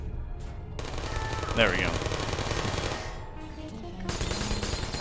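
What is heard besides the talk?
turrets shooting at the player in the video game Portal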